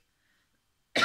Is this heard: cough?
yes